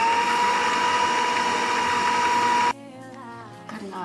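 An electric mixer kneads roti bread dough at low speed with a dense, steady mechanical whir. It cuts off abruptly, leaving quieter, softer sounds behind.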